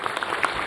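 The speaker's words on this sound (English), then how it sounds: "we have a big round of applause for Professor Radim" A conference audience claps continuously in a brief, dense burst of steady applause.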